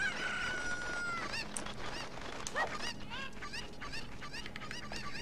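Chickens in the Ocarina of Time video game cluck and squawk in a busy overlapping flock, short sharp calls repeating steadily over a faint background hum.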